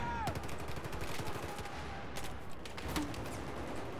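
Gunfire from the video game Battlefield 4 on the Metro map: dense, rapid bursts and blasts layered over a constant roar of battle noise, with no clear pauses.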